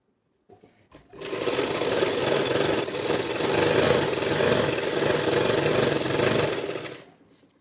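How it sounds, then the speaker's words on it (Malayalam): A sewing machine stitching a churidar top runs in a steady, loud, close mechanical whir and chatter for about six seconds after a couple of brief clicks, then stops. "നേരെ സ്ട്രെയിറ്റ് ആയിട്ട് ഈ ചുരിദാറിൻ്റെ തുമ്പറ്റം വരെ ഒരു സ്ട്രെയിറ്റ് ആയിട്ട് തയ്ച്ചെടുക്കണം."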